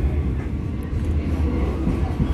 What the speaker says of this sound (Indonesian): Kereta api Cikuray saat ini persiapan melintas langsung stasiun Haur Pugur